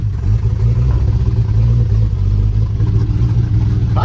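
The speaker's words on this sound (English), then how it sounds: "she'd be a good running rig, but boy, she's running real rich, not too awful hot" A 1973 Jeep J2000 engine runs rich with a faulty carburetor, a steady low rumble with an uneven, loping idle held close and loud throughout.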